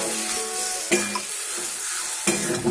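A spoon scrapes and stirs a sticky fish dhoka mixture of lote fish in a pan over a soft sizzle, with two sharper scrapes standing out against the steady frying hiss.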